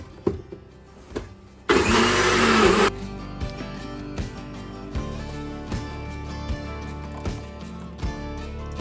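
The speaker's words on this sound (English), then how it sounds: "I like to mix my wet ingredients in the NutriBullet" A NutriBullet blender mixes wet ingredients for carnivore bread in one loud, steady whirring burst lasting about a second. Quiet kitchen knocks and taps come before and after it.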